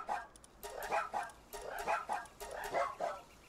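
Dire Howl from the video game Palworld barks repeatedly, a close run of short, evenly spaced woof-like calls with a steady, bouncy rhythm and nothing else underneath.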